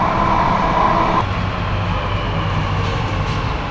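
An underground metro train on the Bandra–Kurla line runs with a loud, steady, continuous rumble and roar, a brief tonal whine fading out early, with no talking.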